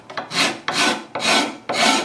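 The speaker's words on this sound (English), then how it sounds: "a card scraper is just really easy and it makes very little dust, and I get these nice ribbons of material that come off." A card scraper shaves thin wood veneer edge banding in four even, rasping strokes, each a rough, close scrape that rises, holds briefly and stops, with no talking.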